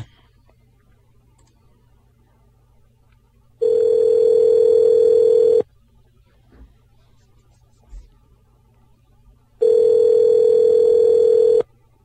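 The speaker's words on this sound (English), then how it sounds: "It's ringing." Outgoing telephone call ringing back in two long, steady electronic tones, each about two seconds with a pause of silence between, clear and close with faint background clicks.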